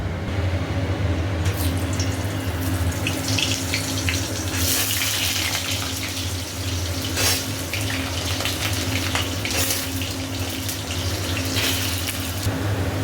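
Potato pieces fry in hot oil for a Bengali vegetarian dish, giving a loud, continuous sizzle and crackle with bursts of spattering, close up and with no talk.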